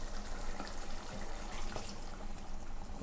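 Water poured from a cup into a pressure cooker of rice for chicken biryani, a steady close splashing stream that runs unbroken throughout with no talk.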